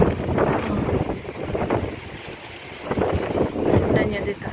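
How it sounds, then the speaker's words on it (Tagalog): Strong wind buffets the microphone in loud, gusting surges that rise and fall in waves, with a voice faintly present beneath the roar. "Grabe yung hangin, no."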